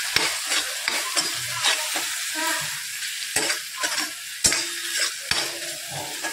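Dry spices being stirred into frying tomato and onion for a methi masala, loud sizzling with repeated scraping and knocking of a spatula against the pan, close and alone.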